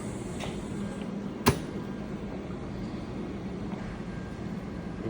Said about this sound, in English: let me shut the door first